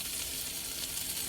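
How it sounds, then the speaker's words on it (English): Breaded chicken tenderloin frying in hot oil gives a constant dense sizzle with a bright hiss, steady and close, with no voices. "that's the sizzling sound we want"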